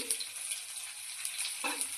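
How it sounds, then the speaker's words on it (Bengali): Steamed beans with potato and onion frying in a pan, a soft continuous sizzle heard up close for a couple of seconds, with a faint stir near the end. "ভাজা ভাজা করে নেব।"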